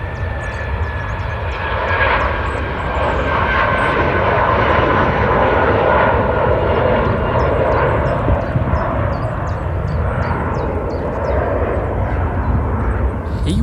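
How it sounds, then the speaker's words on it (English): A British Airways airliner taking off from Manchester Airport, bound for Heathrow: a loud, sustained jet engine roar that swells and holds steady, heard alone close to the runway. "British flag carrier British Airways on its way to Heathrow."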